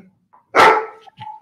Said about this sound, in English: he ruins every recording because he'll hear a dog 2 blocks away and have a conversation with that dog through my wall